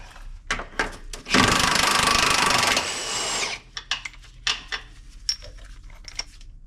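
Impact gun removing shock absorber nuts on a Prevost XLII bus gives a loud burst of rapid hammering lasting about two seconds, with a shorter lower run after it, then metallic clinks and clunks.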